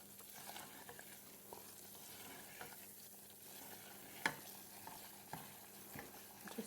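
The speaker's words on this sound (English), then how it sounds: "I'm just going to keep stirring that, get all the lumps and the dry flour out of it." A spoon stirs a butter and flour roux in a pan for mac and cheese, giving faint, soft scraping and occasional light clicks against the pan over a quiet low hum.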